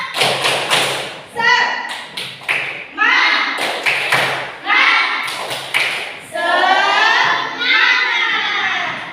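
A classroom of pupils claps a patterned cheer rhythm together, loud, close thumping claps in quick groups, mixed with children chanting and shouting along in unison between the claps.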